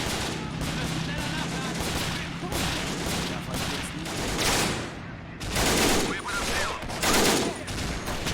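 Dense, continuous gunfire from a 1910 machine gun in a World War II battle game, with overlapping bursts, rattling fire and heavier booms rolling over one another throughout.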